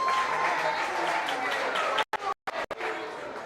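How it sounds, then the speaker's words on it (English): Crowd applause for high school cheerleaders at a homecoming coach's show, a sustained clapping wash with some chatter, cut by a few abrupt dropouts near the end. "give them a big round of applause"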